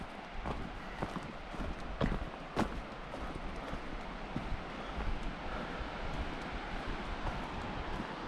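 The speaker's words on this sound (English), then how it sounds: "I really hope the camera's picking up that sound of the river" Steady broadband rush of the Middle Fork of the Snoqualmie River near North Bend, Washington, flowing continuously with some wind buffeting the microphone and a few soft knocks, no talking.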